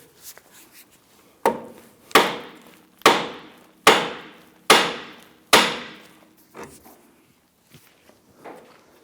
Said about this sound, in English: We're going to use a hammer and strike the knuckle here to go ahead and pop that out